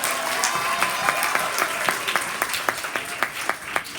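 An audience applauds a newly announced Kid Governor at a Connecticut ceremony, a dense steady round of clapping that thins toward the end into distinct individual claps.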